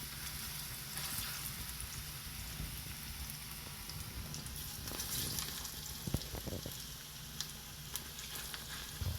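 Sweet plantains frying in a pot over medium-high heat give a steady, quiet oil sizzle with soft crackles and a few brief clinks, and no one speaks.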